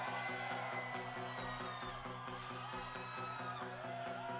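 A rock concert crowd at the Campus Invasion festival screams and cheers: a steady, distant roar of voices blends with a droning musical tone, faint and continuous throughout.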